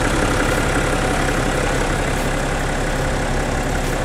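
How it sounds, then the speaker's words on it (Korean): A BMW X6 xDrive 30d diesel engine idles steadily with an open engine bay, an even, continuous low rumble heard up close with no talk. "엔진 소리 일정합니다"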